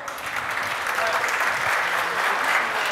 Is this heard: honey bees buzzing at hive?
no